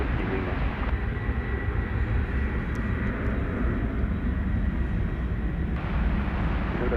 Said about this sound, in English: the A306 is rumbling down the runway